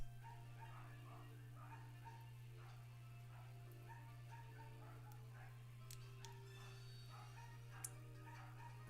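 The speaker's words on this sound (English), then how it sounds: "There's a dog literally dying outside right now. It is barking up a storm." A dog barks outside, distant and faint, in repeated bursts of barks and yips throughout, under a steady low electrical hum indoors.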